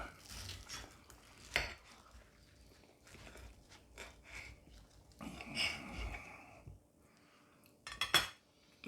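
Cutlery cutting an onion bhaji in half on a plate, with scattered clinks and scrapes of knife and fork against crockery, fairly quiet, with a few louder knocks and some breathing nearby.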